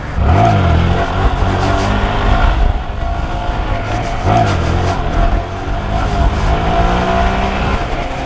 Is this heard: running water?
no